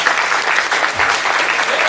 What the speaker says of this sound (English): Don't applaud me, please.